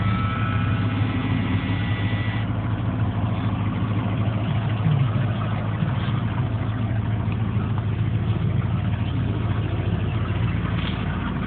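A 1980 Ford F100 truck idles just after starting, its engine a steady low rumble with a faster, rougher note easing off in the first couple of seconds, fitted with an aftermarket exhaust.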